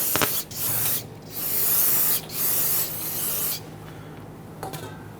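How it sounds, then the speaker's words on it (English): Several hissing bursts of aerosol solvent spray during rear brake caliper replacement on a Kia Sorento, each lasting about a second, separated by short pauses, close and fairly loud. "I'm going to use some spray solvent."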